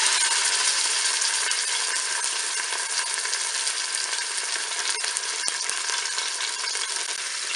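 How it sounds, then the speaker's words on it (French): A beef roast browns in hot oil with a loud, even, continuous sizzle throughout, broken only by a couple of faint clicks. "Je vais le faire dorer sur toutes ses faces."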